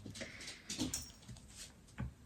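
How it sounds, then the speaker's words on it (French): A pet dog indoors at home whimpers softly and shuffles about, with a few short, faint whines and light movement sounds spread across a quiet room. "si vous entendez des bruits ultra chelous, chez moi, c'est mon chien"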